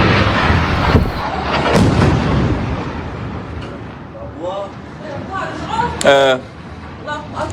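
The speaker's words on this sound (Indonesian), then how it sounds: "Serangan udara Israel memicu ledakan yang cukup besar hingga sejumlah warga panik." Heavy blasts and rumbling booms from an Israeli air strike in Beirut, Lebanon, with loud cracks and shouting voices in panic amid the chaos.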